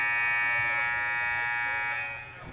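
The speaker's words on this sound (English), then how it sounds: "thank you, buzzer." Basketball game buzzer at a junior varsity women's game, a loud sustained electronic buzz held for about two seconds before trailing off, heard alone and close.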